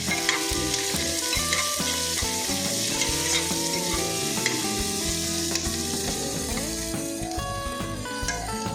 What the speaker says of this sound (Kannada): ಈಗ ಇದಕ್ಕೆ ಸ್ವಲ್ಪ ಆನಿಯನ್ ಹಾಕೊಳ್ಳೋಣ